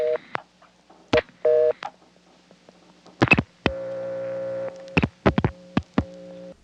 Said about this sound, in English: The only difference is the start tone at the end of your automatic number identification MFs